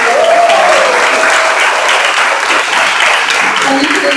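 Loud, dense applause from a graduation award ceremony audience for scholarship recipients, continuous clapping throughout with faint voices mixed in.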